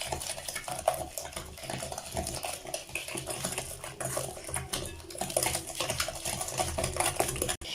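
Chocolate cake batter is mixed in a bowl with sugar and vanilla, a steady close scraping and clinking of utensil against the bowl that continues throughout with light irregular taps.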